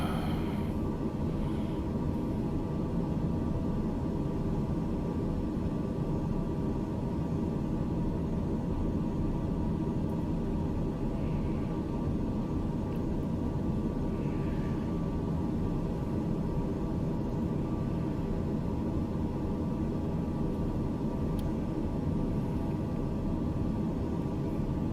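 An aircraft engine in Microsoft Flight Simulator 2020 drones steadily, a constant dense roar with no breaks, heard from inside the cockpit.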